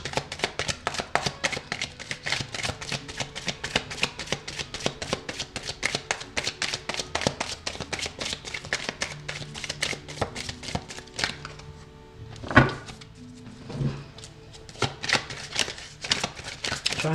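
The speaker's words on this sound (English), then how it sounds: "Try and move away from the mic so that the shuffling is not too loud" Tarot cards shuffled right beside a small microphone, a dense rapid flutter of card riffles repeating close and fairly loud, with a couple of sharper slaps near the end.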